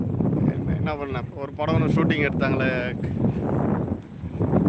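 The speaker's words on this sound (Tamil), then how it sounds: "காற்று ஓவராக இருக்குது." Strong wind gusting at a lakeside near Veeranam, a steady rushing roar buffeting the microphone while someone talks over it throughout.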